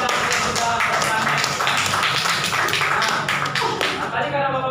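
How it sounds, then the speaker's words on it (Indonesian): A classroom audience claps for a student after a history lesson presentation, a steady dense patter of hands at close range, with some voices mixed in. "sekali lagi kita kasih tepuk tangan untuk Raffi dan yang sudah bertanya"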